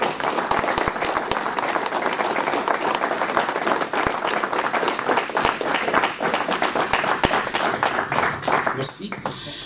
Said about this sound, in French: je vous demande de les applaudir généreusement